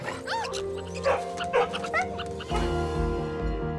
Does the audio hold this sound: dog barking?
yes